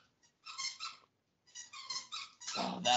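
A dog squeaking and whimpering in short high-pitched bursts separated by brief pauses, ending in a louder, rougher whine, close and alone.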